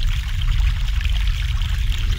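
Fresh mountain water pours steadily in The Longest Journey, a continuous close, full splashing stream with no break and no voices.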